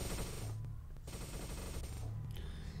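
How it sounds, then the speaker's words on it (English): Rapid bursts of automatic gunfire in a video game, loud and dense with short gaps, shooting at a rock, with no talk over it. "Let's shoot this rock right here."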